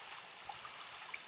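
Flowing water in Minecraft, a faint, steady trickling stream with small droplet-like plinks, heard alone for a brief moment.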